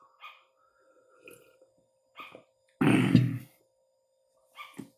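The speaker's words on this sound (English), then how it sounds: "Actually, they're not dogs, they're sugar gliders." Pet sugar gliders give short, sharp yapping barks, a few scattered faint calls with one louder burst in the middle, close by in a quiet room.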